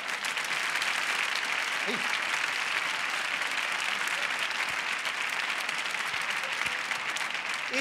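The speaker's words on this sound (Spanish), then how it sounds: "Fuerte el aplauso" Steady, dense audience applause at a magic show after a rope trick, continuing at even strength throughout, with a brief voice heard over it.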